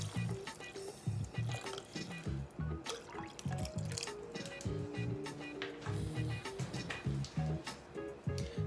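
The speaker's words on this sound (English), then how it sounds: "I'm also gonna put some Crystal Geyser water." Spring water being poured into a pot for vegan ramen in a home kitchen, heard as close splashing, dripping and glugging with irregular bursts throughout.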